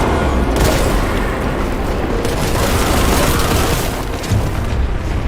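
Loud rumbling blasts from a video-game firefight fill the clip, a dense, continuous boom with a sustained roar and no clear separate bangs, heard alone without talk.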